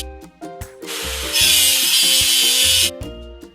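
In a kids' video game, rust is scrubbed off a machine with a loud, harsh grinding rasp lasting a second and a half, set among playful tonal musical notes.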